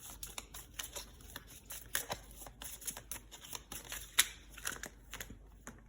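A deck of tarot cards is shuffled by hand nearby, giving a quick, irregular run of soft slaps, flicks and papery riffles, quiet and without speech.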